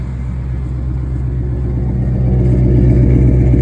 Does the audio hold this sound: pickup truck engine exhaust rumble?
yes